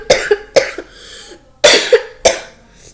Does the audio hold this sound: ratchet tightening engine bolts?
no